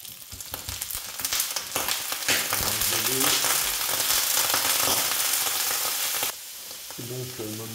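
Mushrooms and bacon lardons frying in a pan for Cantonese fried rice, loud crackling sizzle with repeated stirring scrapes and clatter, easing slightly in the last second, no voices.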